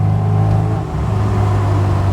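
A 1972 MG Midget sports car engine drones steadily at close range, a loud low rumble with a slight dip in the middle before holding a constant pitch.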